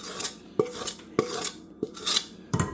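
Cinnamon raisin bread dough being scraped out of a pot, with a series of sharp utensil clinks and scrapes against the metal, roughly every half second, loud and close with no talk.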